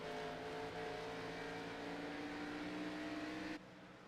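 Race car engine roaring at the Bristol short track, a steady loud drone with rising engine tones that cuts off sharply near the end, around the moment a car hits the wall.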